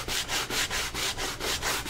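Sandpaper scrubbing back and forth over painted wood in quick, steady strokes, about four per second, close and loud with no voices.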